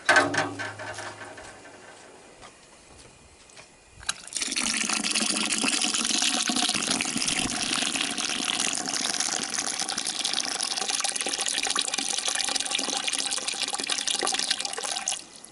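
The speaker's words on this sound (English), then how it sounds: "Okay, let's get some water." Tap water gushes loudly and steadily into a container for homemade elderberry wine, starting abruptly after a few quiet seconds and running without a break to the end.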